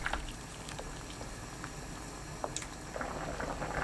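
Rice cakes and shiitake mushrooms boil in seasoned bone broth over high heat, a steady, quiet bubbling and simmer with occasional small pops close by.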